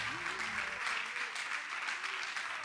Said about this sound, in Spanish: le damos palmas de alabanza, hermanos, palmas de alabanza